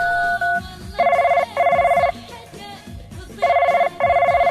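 A telephone rings after a number is dialed, a loud electronic ring in repeated double bursts with short pauses, alone with faint background music.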